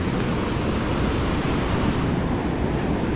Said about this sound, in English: But you see the water churning right there.